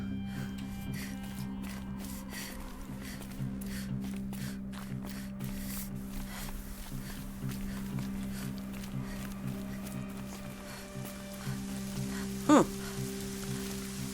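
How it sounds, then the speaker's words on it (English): Steady rain hisses over a woodland scene in Horizon Zero Dawn, a continuous even patter with a low background hum and a brief sharp knock near the end. "now it starts raining."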